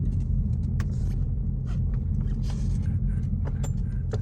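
A 2016 Ford Focus runs with a straight-piped exhaust and no muffler or resonator, giving a steady, loud, deep rumble that holds for the whole stretch, close by and with no talk over it.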